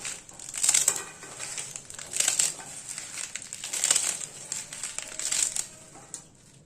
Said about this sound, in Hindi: और इसके अब एक्स्ट्रा डंठल को हम निकाल देंगे और इसे भी काट लेंगे।